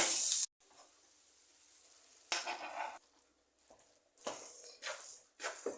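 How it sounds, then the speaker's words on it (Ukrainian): Vegetables frying in a pan for cabbage roll filling are stirred into rice, giving bursts of sizzling and scraping that come and go between quieter stretches, close and fairly loud. "У мене вже все піджарилося, додаю його до рису."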